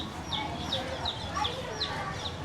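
A small chicken clucks in a workshop where leather is made from water buffalo hide, giving repeated short, high clucks about every third of a second under a murmuring background.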